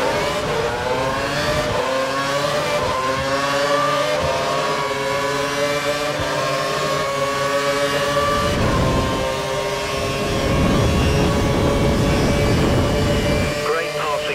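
Ferrari Formula 1 cars race through a Montreal practice session, their high-pitched engines screaming loud and near, rising and falling in pitch as they pass and shift, with an overlapping roar and one car surging back in toward the end.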